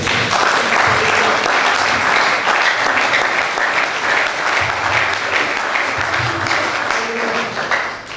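A church congregation applauds in a dense, steady wash of clapping that carries on for several seconds before easing slightly at the end.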